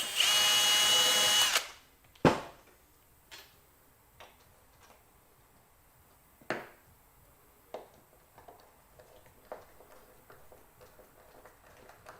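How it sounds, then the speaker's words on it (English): A power drill runs in one loud, steady burst while screwing a hinge onto an old front door being refitted as a pantry door, then scattered soft clicks and knocks follow in a quiet room. "I'll get my shims and screw the hinge on there."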